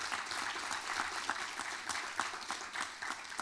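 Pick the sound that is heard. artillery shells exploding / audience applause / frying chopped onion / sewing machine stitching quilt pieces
audience applause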